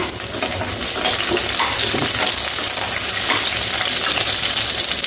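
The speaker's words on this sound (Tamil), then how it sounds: "இப்போ இந்த பாவக்காய் நல்லா பொரியட்டோம்னு நம்ம பார்க்கலாம்" Bitter gourd frying in oil for a tamarind kuzhambu makes a loud, dense, continuous sizzle and crackle, close up and with no voices.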